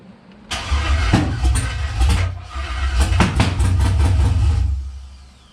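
A car engine cranks and catches on its first start after a long wait, then runs rough and loud close by with uneven surges and a few sharp bursts as it picks up.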